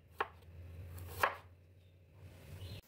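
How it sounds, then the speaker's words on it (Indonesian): Ginger is sliced thinly with a knife on a board: two separate, crisp cuts about a second apart, close but fairly quiet, with near-silence between them. "1 ruah jahe diiris tipis."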